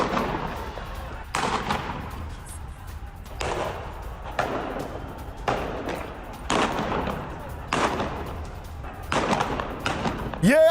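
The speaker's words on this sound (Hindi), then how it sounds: "सावे में प्रदर्शनकारियों पर ताबड़तोड़ फायरिंग।" Rapid bursts of gunfire aimed at protesters in Saveh, Iran, recorded for news footage: a string of sharp, loud cracks and thuds repeating every second or so over a rough, noisy background.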